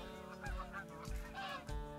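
Geese honk repeatedly during a goose hunt, a series of loud, close, nasal calls in quick irregular bursts, several birds overlapping with no talk.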